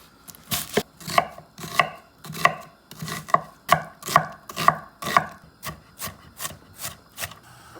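Knife chopping through an onion on a wooden cutting board, about fourteen crisp, evenly paced cuts, close and clear with no talking.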